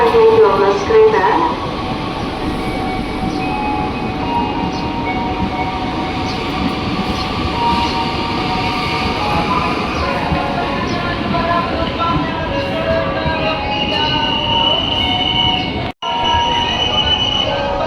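A CRRC-built KRL commuter train at Kemayoran station rumbles loudly and continuously through the platform, with squealing wheels and brief tonal horn or brake sounds over the steady rail noise.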